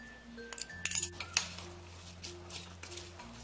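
A spoon stirs green apple salad with dressing in a bowl, making a few light clinks and soft scraping taps against the bowl, quiet and close, with a faint low hum beneath.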